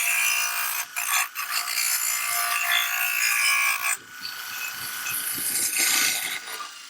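A multitool grinder fitted with a disc grinds metal in back-and-forth strokes, a loud, steady abrasive rasp with brief dips between passes and no talking.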